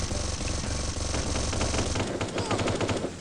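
Automatic gunfire in the cartoon-style mobile third-person shooter HeyHa Royale, long rattling bursts of rapid shots close up, followed by a series of sharper separate cracks, with a voice faintly underneath.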